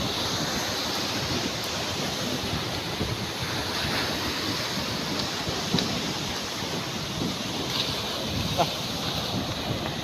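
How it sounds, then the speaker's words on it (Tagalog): Big storm waves from Typhoon Opong, two to three meters tall, pound the shore in a continuous loud surf roar with wind buffeting the microphone and a few sharper crashes standing out. "Kapag ito kalaki yung mga alon, mga 2 to 3 meters yung taas ng alon"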